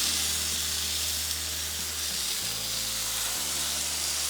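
Tilapia fillets sizzle in hot oil over medium-high heat, a dense, continuous hiss that stays loud and close throughout, with a low hum underneath and no speech.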